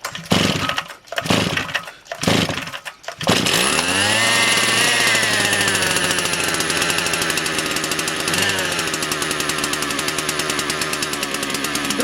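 A Motor Sich 270 chainsaw engine, cold at about one degree Celsius and suspected of an ignition coil fault, sputters through a few failed pulls, then catches and roars into a steady, loud running drone.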